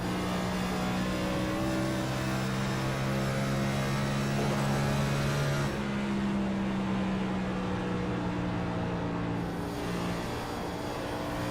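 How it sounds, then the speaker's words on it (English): A race car engine at Dover Motor Speedway drones steadily with a high whining turbocharger tone rising and falling as the throttle is worked, fairly loud and continuous throughout. "That's that turbocharger."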